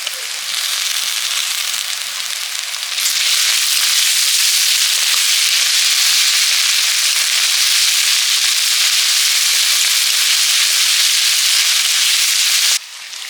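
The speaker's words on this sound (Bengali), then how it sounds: "এখন দিচ্ছি রসুন আদা" Garlic and ginger fry in hot oil with a loud, steady sizzle and crackle that swells after a few seconds and holds, then drops briefly near the end, with no talking.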